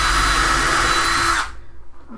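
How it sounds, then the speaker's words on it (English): A power drill whines loudly and steadily, boring two holes at once through the wooden frame of a bird cage stand, then cuts off abruptly, leaving faint workshop shuffling. "I can drill both holes at the same time."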